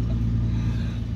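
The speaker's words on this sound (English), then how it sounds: "I'm on a little bit busy thoroughfare near the Walmart, so there might be cars rolling by occasionally." Traffic rolling past on a busy thoroughfare near a Walmart, a low steady rumble of a car going by close at hand with no talking.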